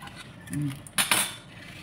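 A cooking pot used for steamed stuffed tilapia is handled, giving a couple of short, bright metallic clinks and clatters up close, with no talk.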